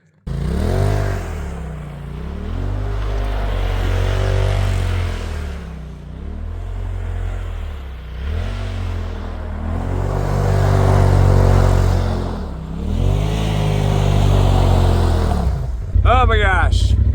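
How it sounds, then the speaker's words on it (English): A Polaris RZR side-by-side driving off-road through snow and ice: a loud, close engine revving up and easing off in repeated surges, with a sharp clatter at the end. "So let's do some off-roading today in the RZR."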